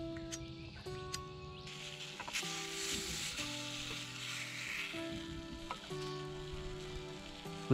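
Stingray fillet cooking over hot campfire coals sizzles steadily and close by, a soft continuous crackle and hiss with small pops and faint bird calls in the background.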